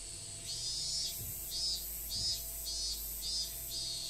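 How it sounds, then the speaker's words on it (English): On a summer night, katydids and cicadas chirp in a steady pulsing rhythm of high, buzzy bursts about half a second apart, fairly faint over a low background hum, with no talking. "I used to think the sounds of like katydids and cicadas were literally the sun"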